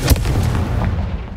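Confringo fire spell blasts from the Hogwarts Legacy video game, a loud booming burst at the start followed by rumbling low-end impact and crackling decay filling the rest of the moment.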